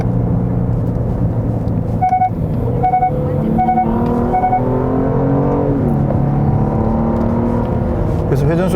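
A Genesis G80 3.5 turbo AWD engine in sport mode blips up in quick rev-matched bursts on downshifts, heard from inside the cabin under a steady road rumble while someone talks over it.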